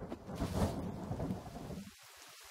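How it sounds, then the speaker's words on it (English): Rain pours and thunder rumbles heavily in the survival video game The Forest. The dense storm noise fills the first two seconds, then drops away abruptly to near silence. "It's raining again."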